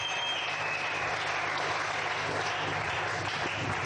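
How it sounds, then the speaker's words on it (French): A church congregation applauds in a dense, sustained wash of clapping that holds at an even level throughout, with faint voices mixed in. "Acclamons Jésus très fort"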